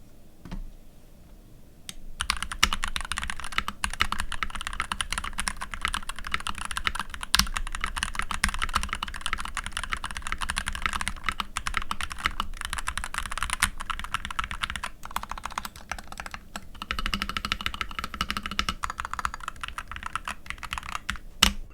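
Steady, continuous typing on a mechanical keyboard with Gateron G Pro Red 2.0 linear switches, smooth, muted keystrokes in a fast, even rhythm, close up with no talking.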